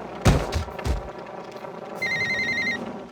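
A phone rings in the video game Alone in the Dark (2008): a short electronic ring with a steady tone for under a second, following several heavy booming impacts.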